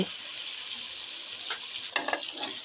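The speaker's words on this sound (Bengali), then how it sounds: "এবার মশলাগুলোকে খুব ভালোভাবে কষিয়ে নেব" Spice paste for chicken biryani with peas frying in a pan, a steady close sizzle with a few scraping stirs of a spoon near the end.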